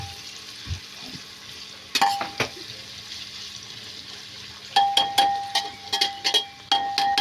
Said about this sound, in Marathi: चांगला लाल झाला पाहिजे, त्याला हलवत राहायचं ब्राऊन होत तोपर्यंत।